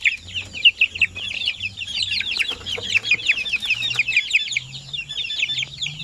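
Young Zampen native chickens cluck continuously and busily in a coop, with many overlapping calls close by and a low hum underneath.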